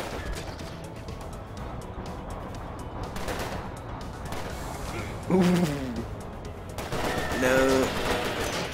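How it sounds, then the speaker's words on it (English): Gunfire in the video game Cortex Command, a dense rattle of rapid shots and crashes running under a voice, with brief electronic tones and a louder burst near the end. "shoot everybody down"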